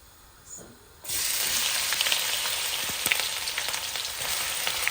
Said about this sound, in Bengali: পেঁয়াজটা একটু বারিক বারিক করে কেটেছি, দিয়ে দিচ্ছি।